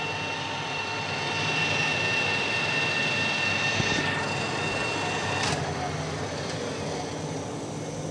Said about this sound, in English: The motor is running full speed.